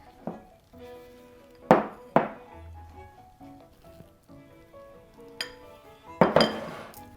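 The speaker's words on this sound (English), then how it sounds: "And mix it just until it's incorporated." A spoon or whisk clinks and scrapes against a bowl while flour is mixed into a delicate langues de chat cookie batter, with a few sharp knocks on the rim among softer stirring sounds.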